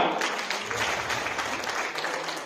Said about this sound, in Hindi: आइए एक बार पुनः जोरदार तालियां